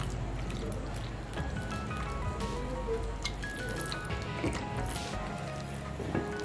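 Gram flour batter for potato chops is beaten by hand while water is added a little at a time, making continuous wet squelching and slapping close by with small drips.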